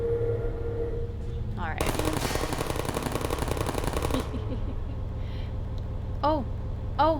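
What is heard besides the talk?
turret gunfire in the video game Portal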